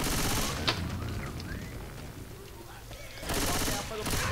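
Rapid gunfire from the co-op zombie shooter Left 4 Dead 2, dense bursts at the start and again near the end with a busier game scene between, loud and close.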